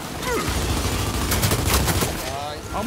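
Gunfire in Gears 5, with sustained rapid bursts and a fusillade of shots in a battle during a HiveBusters mission near a lava river, heard up close and dense throughout, with faint game voices mixed in.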